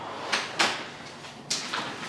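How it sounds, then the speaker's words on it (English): A door in a modular home foyer is pushed shut, giving a few soft close thumps and scrapes over about two seconds, fairly faint against a light background hiss. "So let me close the door."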